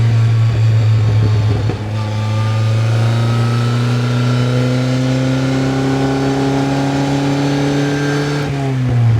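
The engine of a 1955 Austin Healey 100S tribute drones loudly and steadily from inside the car while driving, its pitch climbing slowly through a gear with a brief dip near the start and a shift near the end.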